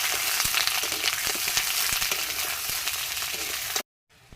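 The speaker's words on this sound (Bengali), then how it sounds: "পটলটাকে ভাজা ভাজা করে," Pointed gourd fries in hot oil in a kadai, giving a loud, dense sizzle with small pops and crackles that runs steadily, then cuts off abruptly near the end.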